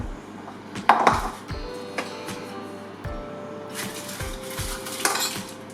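A metal tablespoon packs meat filling into peppers for stuffed peppers, giving a run of close, sharp clinks and scrapes against the pan, with quiet rustling between the louder taps.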